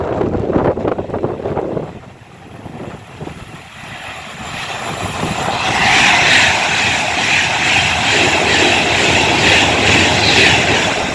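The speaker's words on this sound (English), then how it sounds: "We've got a Pendolino and a freight coming through." A Pendolino passenger train and a freight train pass through Rugby, a loud close rumble with rushing wheel noise and a rising roar that builds and holds steady, heard without talk.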